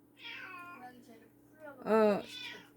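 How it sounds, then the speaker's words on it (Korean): A cat meows loudly in two drawn-out calls, the second louder and nearer, with a steady low hum beneath. "저 고양이가 너무 울어."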